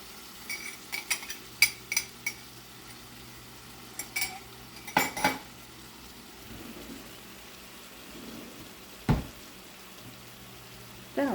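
Tongs stirring cooked vegetables in a non-stick pan for Cajun pasta, giving scattered soft clicks and scrapes in short bursts with quiet gaps, close and fairly faint.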